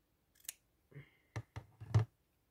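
Scissors cut paper while a junk journal page is decorated: a few crisp, separate snips sound close and clean against near silence.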